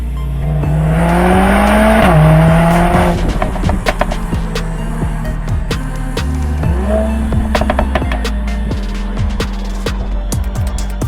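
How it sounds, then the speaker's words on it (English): A 2021 Mercedes-AMG GLA 45 accelerates hard, its engine note climbing through gears with sharp shifts. Tires squeal and scattered clicks and knocks sound up close alongside the loud, rising engine. "this is the GLA 45 and it's the best hot hatch that Mercedes makes"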